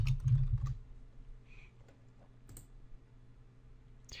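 Quiet computer keyboard typing while text is entered into an Excel 2013 spreadsheet: a short burst of soft key clicks up front, then sparse isolated taps over faint room hum, no voices.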